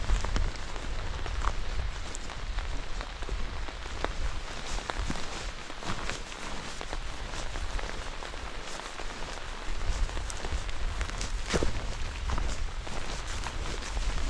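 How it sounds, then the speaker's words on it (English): Steady rain patters on a tarp shelter in the mountains during a tropical storm, dense and close with scattered heavier drops and occasional wind. "As you all can see, it's raining, it's windy, it's cool"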